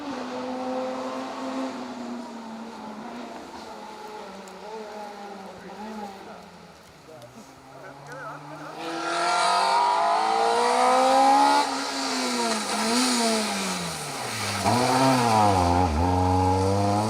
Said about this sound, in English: Citroen C2 R2 Max's sound.